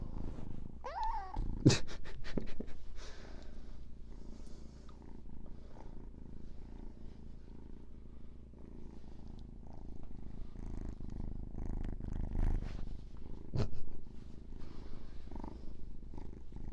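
A cat purring close to a microphone, a low continuous rumbling that runs throughout, with a few sharp handling bumps and rustles and no speech.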